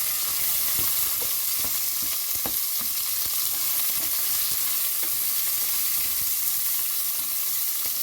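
Onions frying in a pan for a gongura paneer biryani, a loud, continuous close sizzle with scattered soft crackles and stirring noises throughout.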